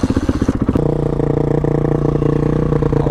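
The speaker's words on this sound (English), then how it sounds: "I love that Lex exhaust, it's so sick." Honda CRF450 dirt bike with a Lex aftermarket exhaust on an off-road trail, a few quick blips of the throttle giving way to a loud, steady, close engine note with a rapid throbbing pulse.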